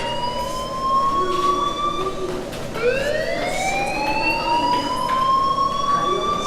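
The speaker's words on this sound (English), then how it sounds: "do you hear that fire alarm?" A loud video game fire alarm siren wails, sweeping up and down in pitch, restarting midway, with a rumble of background noise beneath.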